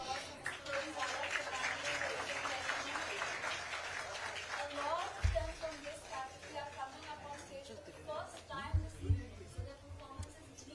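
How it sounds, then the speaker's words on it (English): Applause and cheering from the audience at a singing competition final, with a broad crowd wash of clapping in the first half. It thins out as an announcer's voice speaks over it, with a few low thumps near the end. "Met with a loud round of applause from all of you."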